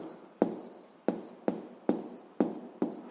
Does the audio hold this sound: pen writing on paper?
yes